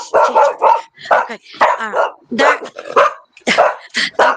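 A dog barks repeatedly in loud, close bursts indoors, with short yips between, while a person speaks briefly.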